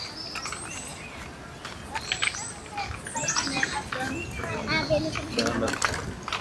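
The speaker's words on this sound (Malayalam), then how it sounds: "നിറച്ച് ശബ്ദമൊക്കെ കിളികളുടെ കിളി കിളി കിളി എന്നുള്ള ശബ്ദമാണ്" Birds chirp from within a tree in a park, scattered quick high tweets that come in small bursts over a low background murmur that may be voices.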